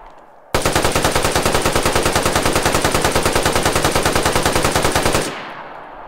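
An SA58 rifle fitted with a 60-round drum magazine fires a long full-auto burst in DayZ, loud, rapid and evenly spaced shots running about five seconds before cutting off into a short fading tail.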